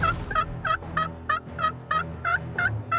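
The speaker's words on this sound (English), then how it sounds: "Boom, there's a gobble." A wild turkey gobbles, a quick series of sharp, rattling calls repeating rhythmically, fairly close and clear in a quiet outdoor setting, with hens fighting nearby.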